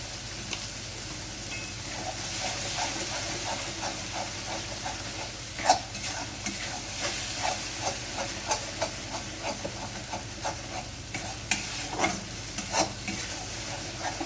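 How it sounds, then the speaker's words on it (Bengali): Spice masala fries in oil and is stirred in a pan, a continuous close sizzle broken by repeated scraping clicks of the spatula at an uneven rhythm. "মশলাটা ভাজা ভাজা হয়ে আসলে আমি এর মধ্যে স্বাদ মতো লবণ অ্যাড করে দিচ্ছি।"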